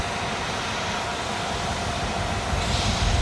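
A CSX switcher locomotive and rail cars rumble through Goodman Yard in Rochester, New York, a steady, fairly loud roar of rolling railcars that swells slightly near the end.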